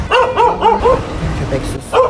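A dog in Barcelona gives a quick run of four sharp, loud barks, pauses with a softer whine-like sound, then barks once more, close to the listener.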